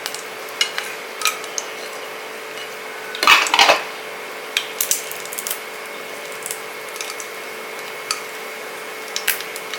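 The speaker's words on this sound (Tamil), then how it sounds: "இந்த பட்டை வகையை எல்லாமே போட்டு நல்லா வறுத்துக்கலாம்" Cinnamon and other whole spices sizzle and rattle in sesame oil in a pan for a white kurma, with scattered clicks and one louder clattering burst of stirring.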